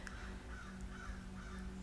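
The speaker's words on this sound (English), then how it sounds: "I just heard a crow outside" A crow caws outside, faint and distant, with a few harsh calls over a low, steady background hum.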